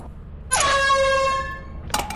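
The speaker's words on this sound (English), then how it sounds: "An air horn. It sounds like a moan." The air horn item in Lethal Company blares once, a loud sustained honk lasting about a second that slides and fades, followed by a short burst of noise.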